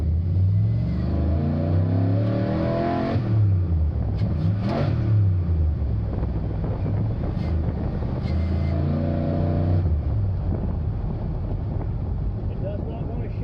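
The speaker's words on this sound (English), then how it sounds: "I'm just about to pull out onto the street with the Celica GT-SS" A Toyota Celica GT-SS fitted with a V8 pulls out onto a street, its engine note climbing in strong rising sweeps, easing, then rising again, loud and close with heavy wind buffeting on the microphone.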